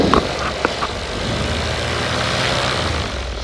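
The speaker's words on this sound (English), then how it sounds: "Get this motor warmed up." Paramotor engine on a Kangook Amaruk frame warming up, a steady close idling drone with a low rumble holding even throughout.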